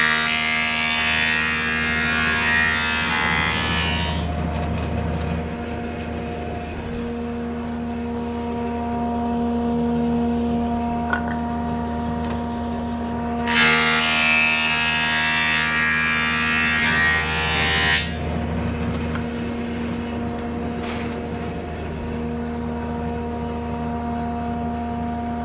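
A wood planer surfaces a board in two passes, its steady motor whine swelling into a louder, brighter cutting roar for several seconds each time before easing back to idle hum; no speech.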